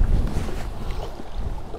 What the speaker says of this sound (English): Trying to talk with the wind, out of the wind here.